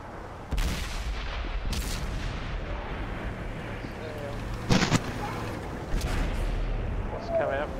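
Several heavy, booming artillery blasts from World of Tanks, with tanks including a T110E3, arrive at irregular intervals over a rumbling battle din, with voices talking in the background.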